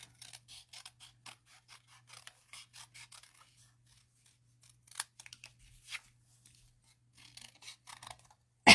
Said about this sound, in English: you have to do a little bit of hand trimming around these